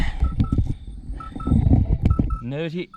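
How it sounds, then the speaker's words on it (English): A mobile phone sounds with repeated short electronic beeps and tones, close and fairly loud, mixed with rustling, handling noise and voices. "do you guys hear that? Oh my goodness, I got to stop that. My phone."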